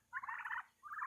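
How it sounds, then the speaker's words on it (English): Blue Slate turkeys gobble on a homestead farm in two quick rattling bursts, the first longer and the second shorter, fairly close and with no talk over them. "blue slate turkeys"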